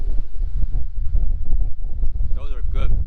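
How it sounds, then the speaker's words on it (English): Strong outdoor wind buffets the microphone in gusty low rumbles throughout, with a person talking over it and some brief squeaky tonal sounds near the end. "it is really windy, and it's probably not coming through very well"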